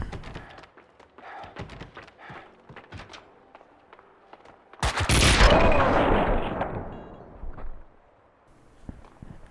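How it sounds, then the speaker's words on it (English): Shotgun blasts from the action video game Max Payne 2 go off against enemies, with one loud, sharp blast that rings and decays over a couple of seconds, surrounded by smaller scattered gunfire clicks and footsteps. "Here I am shooting the shotgun at these guys."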